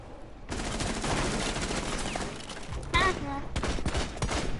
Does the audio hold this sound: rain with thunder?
no